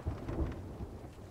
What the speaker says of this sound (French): Il y a un sacré orage.